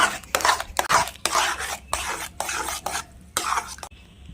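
Palmyra palm pulp is mixed in a bowl by hand or spoon, giving about eight close, wet, rhythmic strokes with short gaps, trailing off into quiet at the end, no voices.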